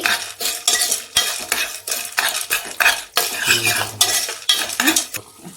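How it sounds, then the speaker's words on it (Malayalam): Moong beans and a pinch of salt stirred in a metal pan, for popping into popcorn, make loud, rhythmic scraping and rattling strokes with a soft sizzle beneath, close up and without talk. "ഒരു ലേശം ഉപ്പിട്ടു ഒന്ന് ഇളക്കി"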